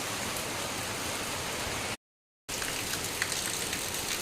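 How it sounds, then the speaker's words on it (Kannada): Steady heavy rain pours down continuously across a house courtyard, a dense broadband hiss, broken by a brief silent gap midway before the downpour resumes. "ನೋಡಿ ಒಂದೇ ಲೆಕ್ಕದಲ್ಲಿ ಮಳೆ ಬರ್ತಾ ಇದೆ"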